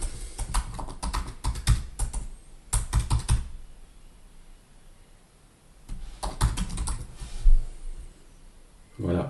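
Quick bursts of keystrokes on a computer keyboard, clattering in rapid runs with a quiet pause in the middle, then resuming and ending in a few separate taps.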